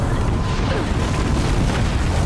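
Dense, continuous gunfire and explosions from the video game Horizon Zero Dawn, a loud, rumbling wash of booms and bursts with no clear breaks.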